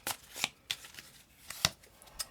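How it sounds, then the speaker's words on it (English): Tarot cards are shuffled and drawn in a few quiet, crisp riffles and snaps, separated by short pauses, close to the microphone with no talking. "Let's also pull 3 more cards and see what the supporting messages are for you."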